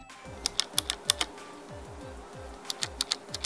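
Keys on a Razer Ornata keyboard tap out two quick runs of crisp, close clicks, a cluster of about six strokes, then a pause, then another burst of five or six.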